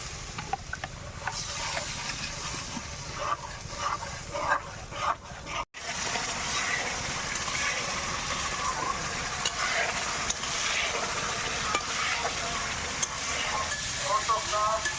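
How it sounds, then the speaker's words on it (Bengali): Cumin paste and spices stir-fried with a little water in a pan for quail egg biryani give a steady sizzle and scraping stir, close and continuous, with a brief dropout midway. "একটু জল দিয়ে কিছু সময় কষিয়ে নেব।"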